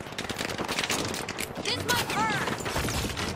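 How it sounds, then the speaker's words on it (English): Rapid gunfire bursts from the competitive shooter video game The Finals, loud and dense throughout, with scattered shots and a whistling effect, overlapping speech. "Try and get a couple shots off."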